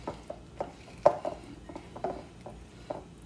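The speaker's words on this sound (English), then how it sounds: "Mix it nice and even." Rocky road brownie batter being stirred in a bowl, the utensil scraping and knocking against the sides in irregular close clinks and soft thuds, with no talking.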